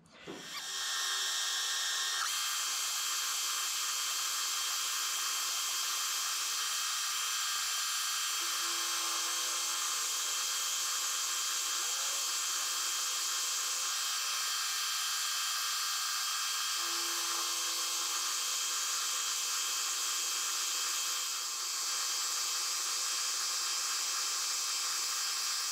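A 3/8 milling cutter slots the face of an MT3 face mill arbor, giving a steady, loud high-pitched metallic whine with dense tonal harmonics that runs continuously for the whole cut, with slight pitch shifts as the feed changes.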